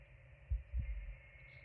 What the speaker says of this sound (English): Why does it have a heartbeat? Specifically, a two-chambered heart.